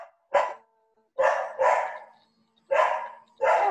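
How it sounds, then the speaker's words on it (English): A dog barks five times in short loud bursts, spaced irregularly with quiet gaps between, heard close and alone without talk. "Oh, there's a dog."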